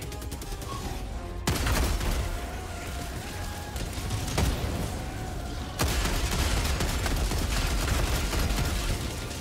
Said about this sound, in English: We got heavy artillery here.